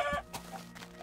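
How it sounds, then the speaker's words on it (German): Chickens in the video game Minecraft give a short burst of clucking, a sharp squawk followed by softer clucks over about a second, close and clear, no talk. "Geh weg, du dummes Huhn."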